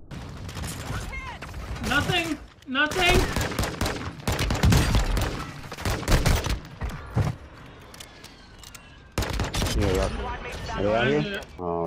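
Gunfire in a Modern Warfare 2 match, with bursts of rapid automatic shots and single cracks under excited voices of players talking throughout.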